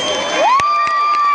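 An outdoor concert crowd cheers and shouts in a steady, loud wash, with a few sharp claps popping through while a sustained tone holds over it.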